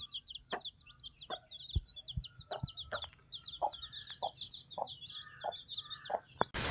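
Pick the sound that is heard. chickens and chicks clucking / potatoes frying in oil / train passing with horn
chickens and chicks clucking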